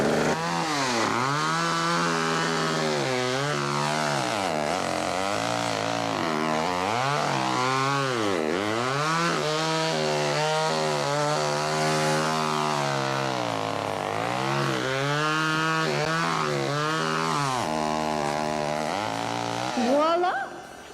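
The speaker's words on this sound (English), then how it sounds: "A chainsaw." A chainsaw runs continuously, its buzzing motor rising and falling in pitch as it revs and eases off, loud and close throughout.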